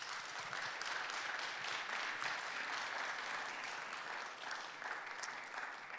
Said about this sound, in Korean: 일어나 주시면 박수로 축복하겠습니다